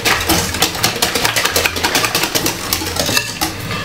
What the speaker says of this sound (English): and give it a whisk